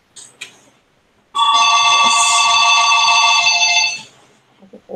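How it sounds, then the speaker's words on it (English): A telephone on a call line rings in one loud, sustained electronic burst lasting about three seconds, with quiet background noise before and after. "Wendy, can you mute the phone?"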